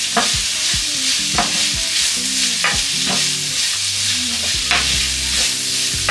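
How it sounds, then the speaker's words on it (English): Loud, steady sizzle of celery and onion frying in a pan, with repeated scraping stirs of a utensil against the pan. "While that's frying off, I'm now going to add some seasoning."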